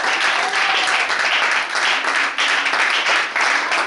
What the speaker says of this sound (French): On peut acclamer le roi du ciel.